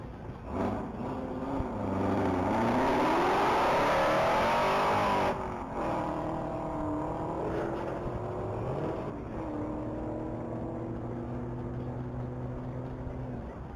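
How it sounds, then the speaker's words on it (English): A 2023 Chevrolet Camaro ZL1 at a top-speed mile racing event, its engine roaring loud and rising through gears with sweeping pitch climbs, then easing to a steadier drone as it runs on at high speed. "That is 2023 Camaro ZL1."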